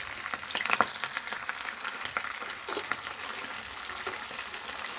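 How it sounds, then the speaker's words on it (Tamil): A pot of herbal decoction with neem and other leaves bubbles and simmers with soft, irregular popping and crackling, a busy low-level boil close by with no talking. "நல்லா கொதிக்குது பாருங்கள்."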